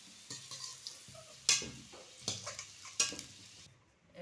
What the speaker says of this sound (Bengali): এবার আমি আলুটা তুলে নেব